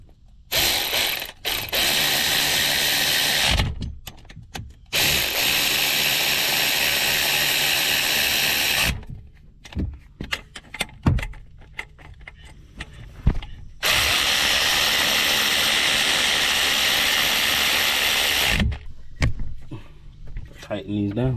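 Ratchet wrench tightening oil pan bolts on a car during an oil pan gasket replacement: long bursts of rapid clicking in several runs separated by short pauses, close and loud, with brief clanks and handling noises between them.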